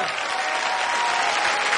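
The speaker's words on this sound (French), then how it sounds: "Je voudrais qu'on applaudisse Jean-Marie" Steady applause from an audience, a dense wash of clapping hands that holds at an even level for the whole moment.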